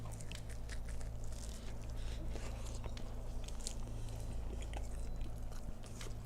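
Close, quiet chewing and crunching of spicy pizza, soft irregular bites and mouth noises over a steady low electrical hum.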